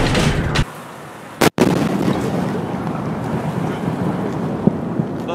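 Delayed sonic boom from the Chelyabinsk meteor arrives outdoors as a loud, broad rumble, with one sharp blast-like crack about a third of the way in, followed by sustained rolling roar.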